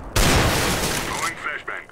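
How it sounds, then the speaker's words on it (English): A flashbang grenade in Counter-Strike: Global Offensive bursts as a single loud, broad blast that rings out and decays over about a second, followed by faint clicks and game sounds. "Grenade out. Flashbang."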